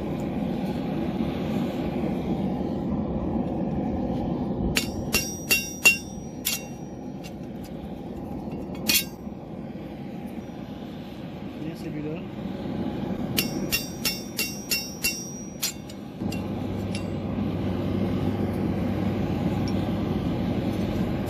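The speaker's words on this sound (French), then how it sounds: "on va prendre notre poinçon et on va venir percer les yeux de l'autre" A steel punch struck by a hammer to pierce the eye holes of a forged metal devil sculpture gives two bursts of sharp, ringing metallic taps over a steady background hum.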